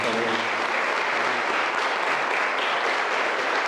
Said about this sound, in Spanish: También un aplauso para nosotros